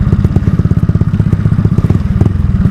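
Motorcycle fitted with new tires being ridden, its engine putting out a loud, close, steady rapid thumping throb with no talk.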